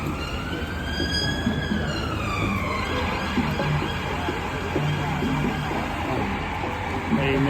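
Emergency vehicle siren wailing on a city street near a holiday landmark with a Christmas tree, its rising and falling tone sustained over steady traffic and crowd noise throughout.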